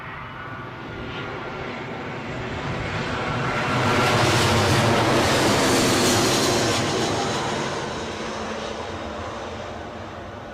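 A British Airways airliner arriving at Newcastle airport, its broad jet roar swelling to a loud peak midway and then easing off, steady and continuous with no talking.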